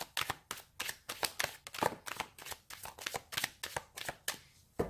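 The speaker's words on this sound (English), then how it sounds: "Let's pull a card for your emotional space now" Tarot cards being drawn and handled from a deck, giving a quick run of crisp, close card flicks and slides in a steady rhythm with no talking.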